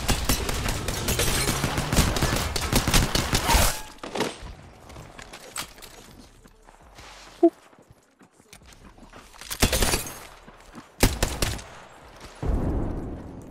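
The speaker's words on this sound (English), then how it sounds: "I'm gonna get shot at." Video game gunfire as the player comes under attack, with loud dense shots at the start and scattered sharp reports and bursts that follow through quieter gaps.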